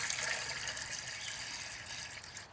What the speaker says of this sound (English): We're gonna smoke with the water pan today. So let's get some water up in here.